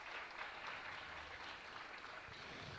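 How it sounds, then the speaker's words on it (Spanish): An audience at a sports-equity panel gives sustained, even applause with no clear gaps, sounding distant and fairly faint throughout. "Un fuerte aplauso para ella."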